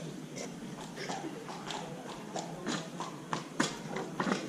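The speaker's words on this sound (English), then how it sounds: "The first horse is a horse called Always on the Ball." Horse hooves clip-clop in a steady, uneven rhythm as horses parade past on an open afternoon, the sharp strikes close and distinct over a soft outdoor background.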